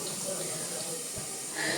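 Water is poured to clean up at home, making a short, steady splashing hiss at moderate level that swells slightly toward the end.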